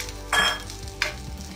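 Peanuts tipped into a pan of golden-brown fried onions over medium heat, making two short bursts of sizzling and stirring with a quieter hiss in between.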